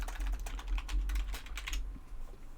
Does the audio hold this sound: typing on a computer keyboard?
yes